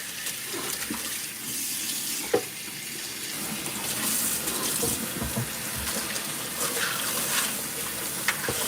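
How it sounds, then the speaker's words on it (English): A kitchen sink tap runs steadily while dishes are washed, a continuous hissing splash with occasional clinks of plates, close and even in level. "Doing the dishes, guys."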